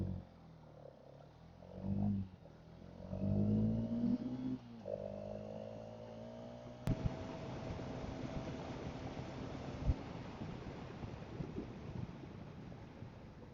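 A 2026 KTM Duke 250 with a liquid-cooled 249cc single-cylinder engine runs during an engine test, idling and revving in rising and falling sweeps, then settling into a steady, rougher drone.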